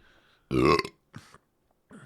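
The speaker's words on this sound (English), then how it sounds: "That was a half throw up burp." A loud, wet burp lasting about half a second, close to the mic, sounding half like a retch, followed by a couple of short, quieter voiced bursts.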